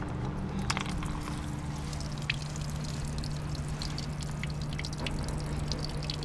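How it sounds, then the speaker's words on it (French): Water drains out of a campervan's plumbing through open taps, making a steady trickle with scattered drips and gurgles beneath a constant low hum, with no voices. "Maintenant, ce qu'on fait, c'est on vide toute l'eau qu'il y a."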